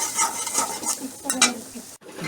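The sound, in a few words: stirring and mixing ingredients for chira khichuri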